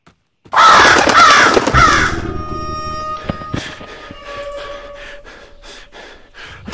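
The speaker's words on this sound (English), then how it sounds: "Those birds are so fucking loud. It's louder than anything I've encountered in this game before." Loud crows caw in a harsh burst of several calls in the FNAF VR Curse of Dreadbear video game, followed by quieter scattered caws and rustling that fade over the remaining seconds.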